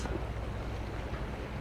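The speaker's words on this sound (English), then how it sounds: "Hear the waves touching the rocks." Water laps against rocks by a bay in a soft, continuous wash, blended with steady wind noise.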